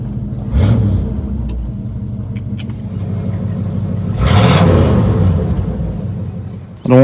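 A truck engine revving with sharp throttle response, a loud close low rumble that surges in two strong bursts over a steady idle, ending in a sudden clunk.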